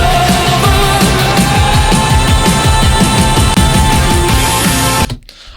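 Mastered indie rock track plays loud and dense with a driving beat, then cuts off abruptly near the end.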